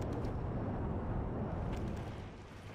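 Bombs bursting on a tank in the Project Reality combat game, a continuous low rumbling roar of explosions that holds steady and then fades slightly toward the end, with no talk over it.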